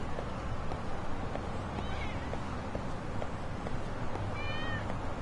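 A cat meows twice in the video game Lost Judgment, faint short cries at a distance over steady background ambience and soft footsteps.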